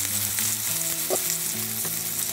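King fish tikka (surmai) fries steadily in a pan, with a continuous loud, close sizzle and occasional stirring or turning sounds, and no one talking.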